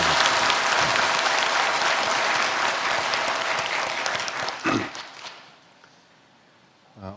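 Congregation applauding in a church after a choir's Christmas hymn performance, a dense, steady clapping that fills the room for about five seconds before fading out to quiet.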